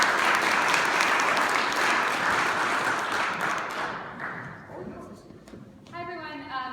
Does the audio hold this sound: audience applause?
yes